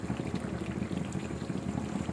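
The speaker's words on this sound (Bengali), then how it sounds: "আস্তে আস্তে করে নেড়ে দিচ্ছি যেন নিচে লেগে না যায়।" Kala bhuna beef curry stirred slowly in a pot, with a faint, continuous bubbling and sizzling of oil and thick sauce and soft scraping, close and steady.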